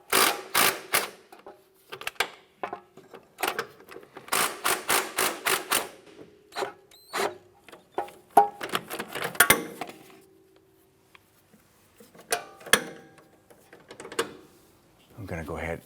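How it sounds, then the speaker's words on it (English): Subframe bolts on an Acura TL are loosened with a ratchet or impact tool, producing bursts of sharp, rapid clicking and rattling that stop and start, with quiet gaps and metallic handling noises in between. "I'm going to go ahead and loosen the bolts here on the passenger side."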